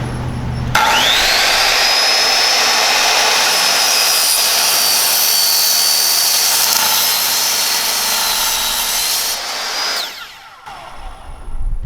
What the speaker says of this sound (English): we're going to cut a little bit off of this side so that we have a clean side to measure from